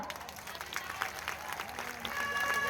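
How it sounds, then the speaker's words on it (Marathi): A women's audience at a stage show claps, the applause building toward the end into a fuller, louder roar amid crowd noise. "महिला मंडळी फक्त जोरदार टाळ्या वाजवा"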